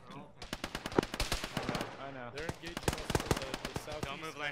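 Rapid bursts of gunfire in Arma, a military shooter game, crack out in clustered volleys beneath steady radio-style voices talking throughout.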